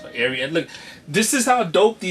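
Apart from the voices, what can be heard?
No everyday noises stand out.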